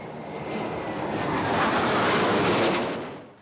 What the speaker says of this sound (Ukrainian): периметр перекривали винищувачі су 25